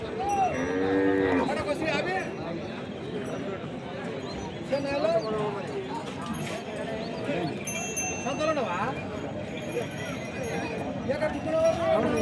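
Bulls moo and low at a busy weekly village cattle market, with a cowbell clinking now and then and people talking all around.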